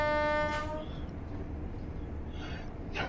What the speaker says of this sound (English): You just have to horn the trains.